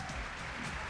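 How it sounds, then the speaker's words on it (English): Audience applause for angler Randy Blockett at a 2004 FLW Tour bass fishing event on Lake Champlain, a steady, dense wash of clapping from a crowd filling the full second without a break. "Randy Blockett, let's give him a good round of applause."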